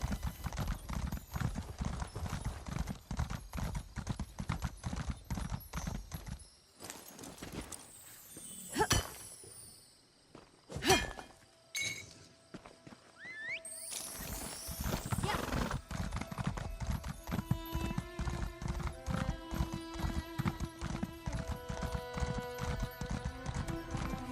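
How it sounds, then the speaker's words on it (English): Rapid rhythmic hoofbeats of a galloping horse in Elder Scrolls Online, with a brief pause in the middle, a whinny, and game sound effects over the steady clip-clop. "My poor slow horse."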